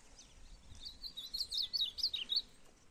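Caged songbirds including a golinha, an azulão and a tiziu chirp in quick high-pitched bursts that thicken through the middle, sounding fairly close over faint background noise.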